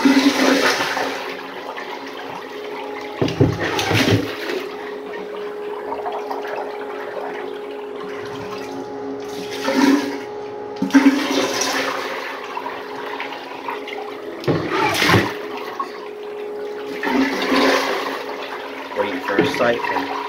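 A miniature 1989 Kohler Highcliff toilet flushes several times, each a short burst of rushing water with a steady refill hum underneath, recorded close with occasional speech between flushes.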